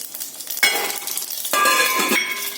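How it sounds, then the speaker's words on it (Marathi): Cumin, mustard and fenugreek seeds hiss and crackle loudly in hot oil for a Marathi ragi-flour kadhi, a dense close sizzle that surges twice with sharp popping, with no talking. "यात आपण जिरं मोहरी आणि मेथीचे दाणे टाकले"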